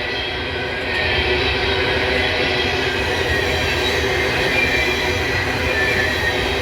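A BNSF intermodal pig train rolls through Abbeville, South Carolina, a continuous loud rumble of wheels and cars passing close by, steady throughout with faint squeal.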